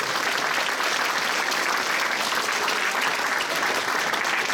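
A convention masquerade audience gives a steady round of dense, loud applause that holds evenly from start to finish.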